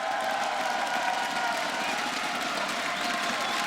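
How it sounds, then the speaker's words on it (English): A large arena crowd at the Six Invitational esports event in Montreal cheers and applauds in a steady, dense roar with scattered whoops, loud and continuous throughout. "We have this amazing crowd in Montreal."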